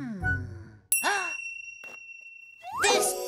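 A bell dings in a children's cartoon, a bright metallic strike that rings on as a clear sustained tone for over a second, bracketed by short cartoonish vocal sounds.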